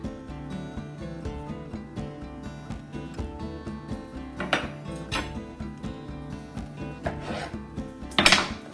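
Cooked potato flesh is scraped and scooped out of the skin with a utensil, leaving a quarter-inch shell, giving repeated close rasping strokes and occasional sharper scrapes, with no talk.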